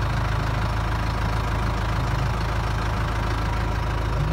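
A tractor engine idles steadily and close by near an agitated bull, a continuous low rumble with a rough, knocking texture throughout.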